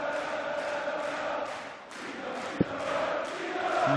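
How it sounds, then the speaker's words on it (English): A darts crowd in a big arena chants Peter Wright's name in a steady, rolling sing-song, with one sharp thud partway through. "the crowd is singing his name"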